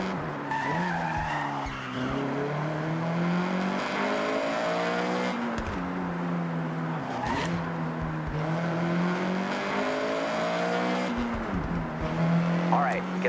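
Toyota GR GT3 race car at full throttle in Forza Horizon 6, engine note climbing repeatedly through gear changes with tire squeal and road rush, loud and close, with people talking over it.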